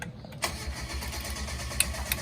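A Nissan Skyline GT-R R34 fitted with a new turbo cranks and catches, settling into a low, steady engine rumble; quiet and brief.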